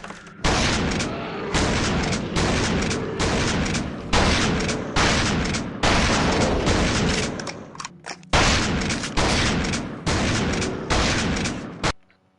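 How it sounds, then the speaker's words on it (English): Shotgun blasts in The Thing Remaster game fight, heavy booming shots fired in rapid succession, about a dozen loud reports at a steady pace with short pauses between bursts. "I recommend using the shotgun, if you can, on this fight, and just shoot it quite a lot."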